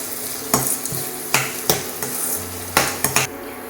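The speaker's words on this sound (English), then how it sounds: "fry the onion till it becomes golden brown in color" Onions fry in a pan for kadai chicken gravy, with a steady sizzle under several sharp scrapes and clinks of a spoon stirring against the pan.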